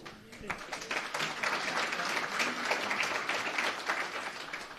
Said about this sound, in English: we've clapped for you a couple times